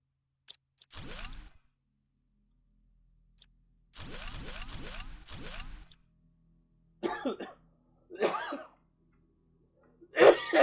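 A person coughs in several short bursts: a single cough near the start, a longer cluster of harsh, repeated coughs mid-clip, then a few rougher, throatier coughs and throat-clearing sounds toward the end, fairly close and loud.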